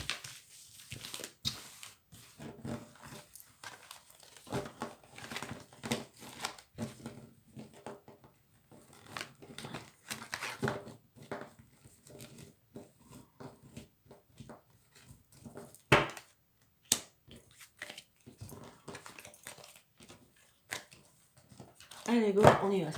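Tarot cards are shuffled by hand in a long run of soft, irregular riffling and tapping bursts, close and quiet, with a person speaking intermittently throughout.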